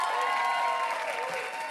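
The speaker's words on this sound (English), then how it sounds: "let's give a big round of applause for Kevin Harper" A launch event audience applauds a speaker with dense, steady clapping at a moderate distance, sustained through the whole short stretch.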